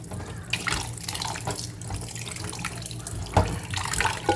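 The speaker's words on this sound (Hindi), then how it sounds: "गर्म पानी से धोएं" Chicken rinsed under a running hot-water tap, a steady close splashing stream with small irregular surges and drips, no voices.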